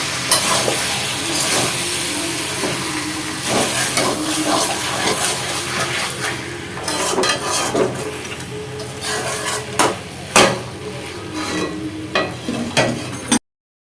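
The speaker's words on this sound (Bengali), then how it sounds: "মটনটাকে ভালো করে আমি মশলার সঙ্গে মিক্স করে নিচ্ছি" Mutton pieces are stirred with spice masala in a hot pan for a mutton korma, giving a continuous loud sizzle and frying hiss broken by scraping, clattering stirs throughout.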